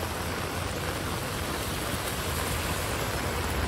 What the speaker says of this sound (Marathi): पाऊस मजबूतच आहे.